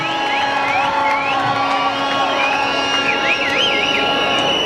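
A crowd at a gathering for Wamuratha in Kenya cheers loudly, with whoops, whistles and ululating rising over a steady roar of voices and claps from start to finish.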